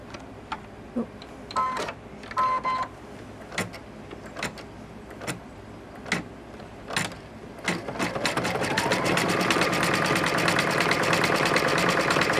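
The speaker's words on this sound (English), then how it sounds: "once the fabric starts to stitch down, it's really not going to go anywhere" An embroidery sewing machine stitches down fabric in purple thread. Scattered clicks and short whirs come first, then the needle settles into a steady, rapid mechanical rattle that runs close and continuous to the end.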